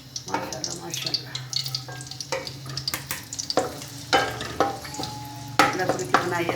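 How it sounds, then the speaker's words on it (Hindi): Garlic sizzling and frying in hot oil in a pan while being stirred, the start of a dhaba-style chana dal; steady close sizzle with scraping stir strokes throughout, no talk. "ऑयल हमारे गर्म हो चुका है। अब इसमें लहसुन ऐड करते हैं।"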